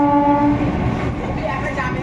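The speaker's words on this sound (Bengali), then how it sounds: "হাওড়া লোকাল" A Tarakeswar–Howrah local train runs past Kamarkundu railway station, its steady rumble and rail noise continuous and close, with a brief horn-like tone near the start.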